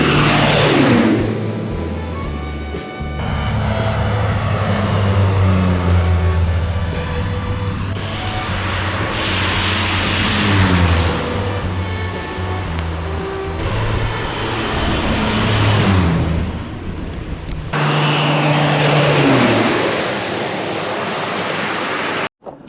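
A crop-dusting airplane flies low over flooded rice fields scattering rice seed, its engine drone loud and steady, swelling and fading as it passes and returns near the end.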